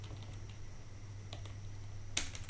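Faint, sparse computer keyboard keystrokes while typing code, a few scattered taps followed by a slightly louder cluster near the end, over a low steady hum.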